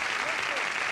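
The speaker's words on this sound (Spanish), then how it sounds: "Un gran aplauso para Miriam" Brief burst of steady studio audience clapping on a television variety show, a dense wash of applause from a crowd, continuous and moderately loud.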